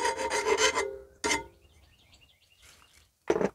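A hand file rasps burrs off the cutting edge of a Honda Harmony HRS216 lawn mower blade, giving loud close scraping strokes, one long, one short, then a gap before another stroke begins.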